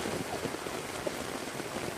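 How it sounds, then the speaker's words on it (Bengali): Rain falls steadily in a dense, even hiss of broadband noise, with no distinct drops or pauses and no voices over it. "অনেকদিন পর বৃষ্টি পেয়েছি অনেকদিন পর সেই বৃষ্টি"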